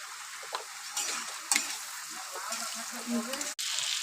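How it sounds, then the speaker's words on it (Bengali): Potatoes with salt and turmeric fry in a pan, a soft, fairly quiet sizzle under repeated scraping and stirring strokes, with one sharp clack near the end. "আমি এই যে আলু ফ্রাই করছি"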